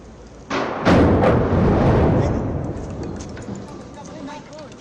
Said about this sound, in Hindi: 3 सेकंड में ब्लास्ट टेस्ट हुआ, सुनिए ये धमाके की गूंज।